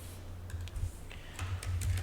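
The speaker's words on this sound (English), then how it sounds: "let me type it out." Keys tapped on a computer keyboard in short irregular bursts, fairly close and soft, over a steady low electrical hum with no talking.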